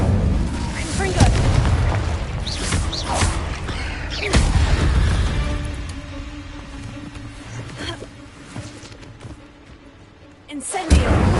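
Spell explosions from Incendio and Confringo in Hogwarts Legacy, several loud booming blasts in the first half that fade into a quieter rumbling tail, then a final burst at the end, with a voice shouting over them.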